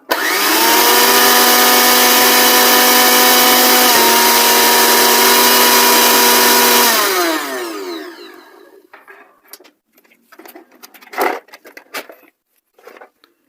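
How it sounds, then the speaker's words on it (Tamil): An electric mixer grinder, plugged into a power switch board during an overload-switch repair, runs with a loud, steady motor whine for about seven seconds, then winds down and falls quiet, with a few faint clicks and handling noises afterward. "மிக்சர் கிரைண்டர் எப்படி வேலை செய்யறதா காட்டுறதுக்காக இப்போ நிமித்தியும் வச்சிருக்கிறோம்"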